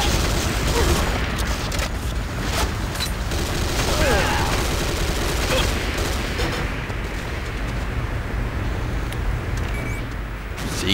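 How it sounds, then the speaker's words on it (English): C4 explosive detonating in C&C Renegade, a dense roaring blast layered with gunfire and battle noise that stays loud and continuous throughout, with no clear separate bangs. "C4, boom."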